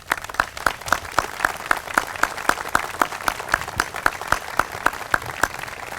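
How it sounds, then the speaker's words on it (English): A crowd at a Memorial Day gathering in a veterans memorial park claps for the event organizers, with distinct, fairly even claps standing out over a lighter background of applause, moderately loud and steady. "we owe them an appreciation and a round of applause"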